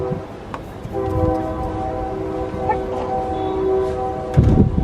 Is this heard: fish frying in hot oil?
no